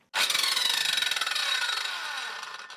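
An Eltos PD-185 circular saw starts in a garage, jumping abruptly to a loud, high-pitched whine that holds steady with a fast pulsing buzz for about two and a half seconds.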